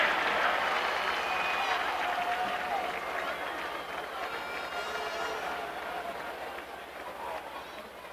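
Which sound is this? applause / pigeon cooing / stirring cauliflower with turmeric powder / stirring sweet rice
applause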